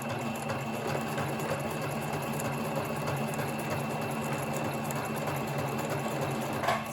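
A sewing machine stitches a pocket in a continuous, steady whirring hum with fine rapid needle ticking. The sound is close and even throughout and ends with a small click.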